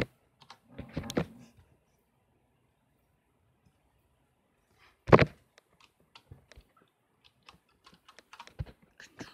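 Computer keyboard keys pressed while working in Blender: a few scattered, quiet clicks and taps at an uneven pace, close by, with long quiet gaps and no talking.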